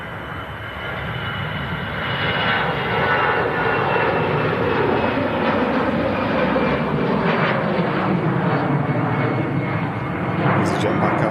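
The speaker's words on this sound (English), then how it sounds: "EasyJet back out to Amsterdam" An EasyJet airliner departing for Amsterdam roars steadily and loudly throughout, its broad engine rumble sustained at a distance with little change, while people chat in the background.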